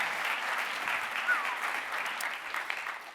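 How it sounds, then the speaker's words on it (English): An audience at a business presentation gives a steady round of applause for the presenter, a continuous dense wash of many hands clapping at moderate level that lasts throughout, with no talking over it. "everyone, big round of applause for Shaun."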